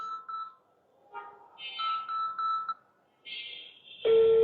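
A phone call comes through with a series of electronic ringtone beeps and tones, fairly quiet, ending in a sharper connecting tone.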